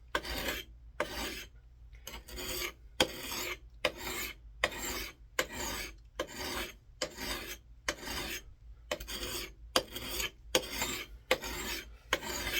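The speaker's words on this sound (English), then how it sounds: "all I'm doing is I'm sharpening, is looking down on the main edge" A new Marbles camp axe edge is drawn across a sharpening stone in about a dozen rhythmic rasping strokes, each a short gritty scrape separated by brief pauses, close and clear without speech.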